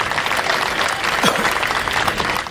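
An audience at a Hindi comic poetry gathering claps in a sustained, dense burst of applause, loud and close, filling the whole moment with a crowd murmur faintly underneath.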